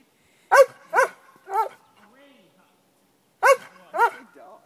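A dog barking in several short, sharp, clear bursts, three in quick succession, a pause, then two more, close and loud against a quiet background.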